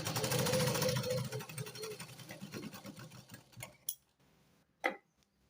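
A sewing machine runs steadily while double-stitching fabric along a curved, rounded seam. The stitching is a dense, fast mechanical whir that fades after a few seconds into a few isolated clicks and taps.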